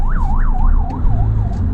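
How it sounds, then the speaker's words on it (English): An ambulance siren wails on a street in Laos, loud and close, its rising and falling tone repeating several times before fading slightly as it passes. "Ambulance."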